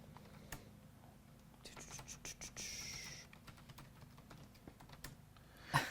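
Typing on a computer keyboard at a sim racing desk crowded with several keyboards and mice, a scatter of light clicks and taps at moderate distance, with a brief louder clatter near the end.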